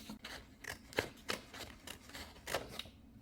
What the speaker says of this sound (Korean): 가위로 잘라주시고